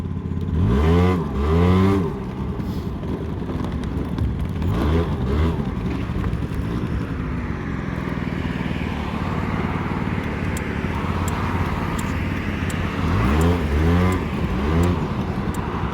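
Yamaha Jog SA16 scooter engine, imported from Japan and showing 9,000 on the odometer, revving hard while ridden with a 100 kg load. Repeated rising and falling acceleration sweeps sit over a constant buzzy drone at close range.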